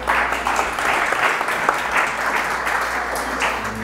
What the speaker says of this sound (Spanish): Con fuertes aplausos recibimos